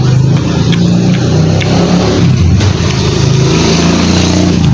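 Motorcycle engine held at a steady, loud idle with a low rumbling drone up close, wavering slightly as it runs, with no voices.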